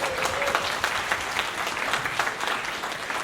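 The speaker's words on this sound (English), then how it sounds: "Another round of applause for Jared Ross." Audience at a community wind band spring concert applauding the conductor, a dense continuous round of clapping from a crowd with no talk.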